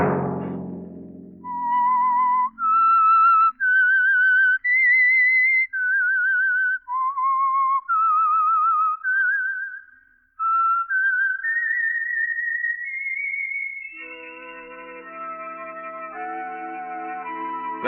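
A lone whistler performs the eerie theme melody of The Whistler radio mystery program, a clear sequence of sliding, wavering notes, followed by a soft orchestral chord.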